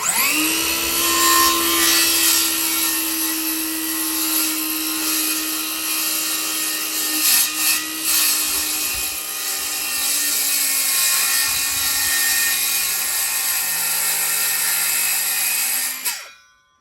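A Skilsaw circular saw cuts steadily through wood for about sixteen seconds with a loud, sustained high whine, a brief dip in the middle, then spins down and stops.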